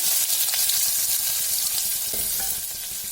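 Sliced onion and dried red chillies fry in hot oil for a drumstick-leaf stir-fry, a loud, close, continuous crackling sizzle with light stirring scrapes throughout.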